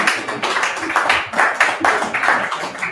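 A small audience at a bookstore launch event gives a brisk round of clapping, steady and close, with no talking over it.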